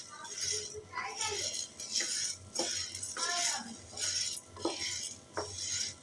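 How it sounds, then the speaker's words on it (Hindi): A metal spoon stirs black pepper as it dry-roasts in a pan over a low flame, giving repeated scraping and clinking strokes at close range, with a voice faintly in the background. "ये देखिए इस तरह से आपने चम्मच चलाकर इनको मिक्स करना है।"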